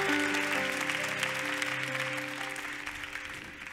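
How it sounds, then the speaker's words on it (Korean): An audience claps during a Christian radio program's worship segment, a broad wash of applause over a fading musical tone that gradually tapers off. "우리 하나님께 큰 박수로 영광 올려드리겠습니다."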